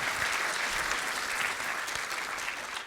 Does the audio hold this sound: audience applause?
yes